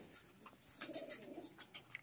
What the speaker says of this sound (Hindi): ये भी बहुत अच्छी क्वालिटी के कबूतर हैं।